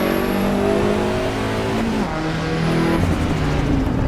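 Integrale race car in Assetto Corsa Evo howls loudly at high revs, its engine note dipping and climbing through gear shifts over a few seconds.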